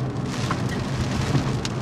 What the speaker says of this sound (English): it is raining out here